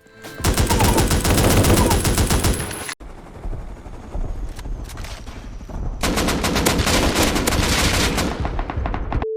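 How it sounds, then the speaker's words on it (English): Loud bursts of rapid automatic AK rifle fire in the video game A.W.O.L., a sustained volley that cuts off abruptly, then lighter scattered shots before another long continuous burst. "I swear to God this AK sound is ripped from Rust."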